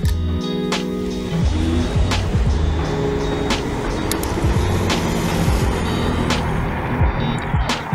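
An iskutER Dark Knight electric scooter accelerating past 30 km/h in gear two on single motor mode, giving a steady close, loud drone with rising tonal whine and wind rush throughout, no talk over it.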